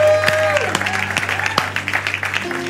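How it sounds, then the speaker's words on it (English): An audience at a church service applauds, a burst of clapping from a crowd that carries on under sustained musical tones, fairly loud and close. "give him a big round of applause"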